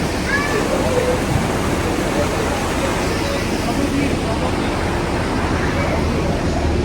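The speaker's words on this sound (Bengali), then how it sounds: "এটা দেখো ঝর্ণার জলটা এরকম ভাবে বয়ে আসছে" Icy meltwater from a mountain stream near Pikes Peak, Colorado, rushes downhill in a steady, close, unbroken roar of churning water with no pauses.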